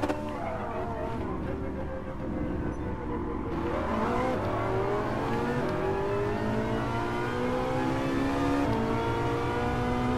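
Bugatti Veyron Super Sport 16.4 with its quad-turbo W16 engine roars loudly and steadily, revving up with rising pitch through the middle of the stretch, close by with no talk over it.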